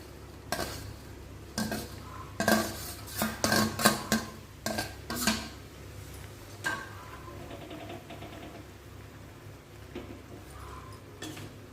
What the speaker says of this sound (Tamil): போட்ட உடனே கொஞ்சம் நேரம் நல்லா கிளறி விடுங்க